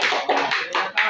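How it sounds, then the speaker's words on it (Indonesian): A classroom group claps hands in a short burst of applause: dense, bright clapping that comes in a few quick surges, close and fairly loud, with no voices. "Tepuk tangan dulu."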